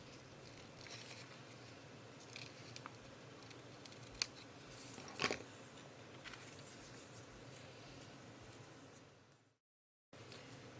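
Scissors cut through paper in a few faint, isolated snips over a steady, quiet background hiss, with no talking.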